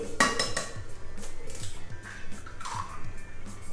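Metal whisk rattling and clinking steadily against a bowl while beating melted butter with caster sugar for banana bread, a quick repeated ticking rhythm close up, with no talk.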